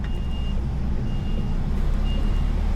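Truck reversing alarm gives three evenly spaced beeps over the steady low rumble of the idling truck's engine, close by.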